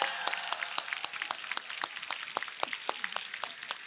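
A standing ovation at an early childhood education panel, with distinct, crisp individual claps in a fairly regular rhythm, moderately close.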